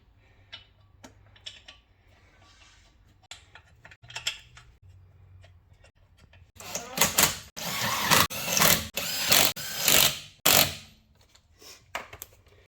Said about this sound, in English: When you're torquing up the wheel nuts, always try to torque them up in a star-shaped pattern like this